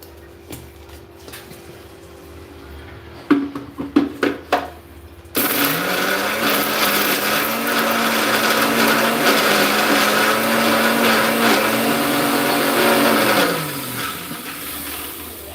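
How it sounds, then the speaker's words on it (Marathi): A mixer grinder grinding masala in a home kitchen: a few short clattering pulses, then a loud steady whirring motor run for about eight seconds that winds down abruptly. "आता बघा मिक्सरमध्ये घेतलं आहे मी सगळा मसाला काढून आता आपण याला फिरून घेऊ"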